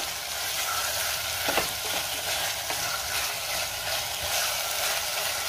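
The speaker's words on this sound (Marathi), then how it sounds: "पुन्हा एकदा व्यवस्थित मिक्स करून घेऊया" Potatoes frying in a pan with a constant crackling sizzle, punctuated by a few scraping stirs of a utensil partway through.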